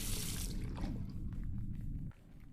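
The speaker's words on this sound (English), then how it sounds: "All that remains is to rinse the plate. And now, the water." Water runs steadily over a photographic plate in The Last Door, a soft continuous pour that cuts off sharply near the end and leaves a faint quiet tail.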